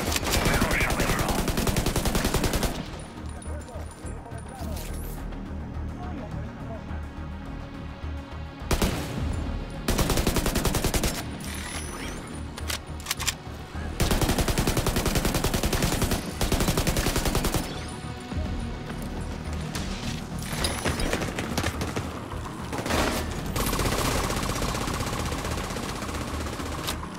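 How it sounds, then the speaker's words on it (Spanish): Bursts of rapid automatic gunfire, loud and sustained, broken by short quieter gaps, from a firefight in the video game The Division 2. "Oigo disparos."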